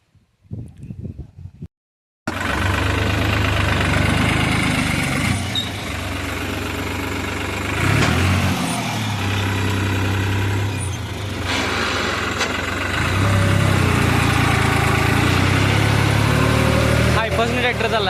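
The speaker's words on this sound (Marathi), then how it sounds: "हायफसने ट्रॅक्टर चालला, हायफस." After a short burst of speech, a tractor engine at full power takes over as a loud, deep, steady drone that pulses slightly, close by and continuous to the end.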